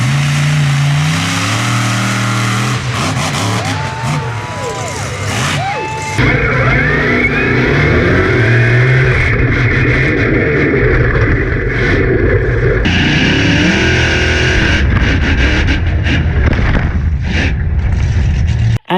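A monster truck engine revs hard in third gear ahead of a big jump at the Monster Truck Nationals. The loud, sustained roar rises and shifts in pitch throughout, with the engine note swelling near the end.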